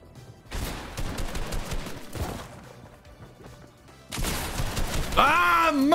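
Gunfire from a battle royale video game match: bursts of rapid shots and crashing impacts dominate the opening seconds, fade, then return louder near the end with a high whining effect, with no clear talk over it.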